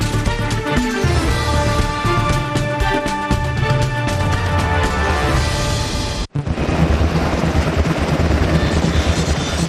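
A Black Hawk helicopter's rotor thumps steadily and loudly nearby, a heavy rhythmic chop with engine whine, briefly cutting out before resuming.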